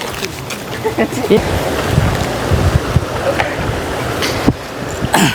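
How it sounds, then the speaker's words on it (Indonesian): Steady wind buffets an outdoor gathering by the sea during a mass offering ceremony, a constant roaring rush with gusty swells, while people talk faintly beneath it. "Angin lagi."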